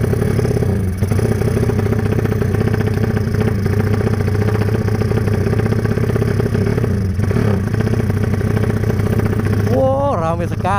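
A Tiger 300cc motorcycle engine runs under a rider, a constant throbbing mechanical drone with some clatter. Near the end the revs climb and fall in short surges.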